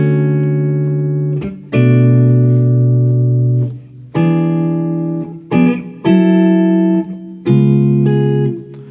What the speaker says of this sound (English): And then the chords are the same all the way through.